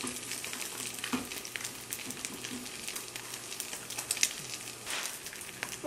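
Eggs fry in a pan with a steady, fairly quiet sizzle and crackle, joined by occasional light scraping and stirring noises close by.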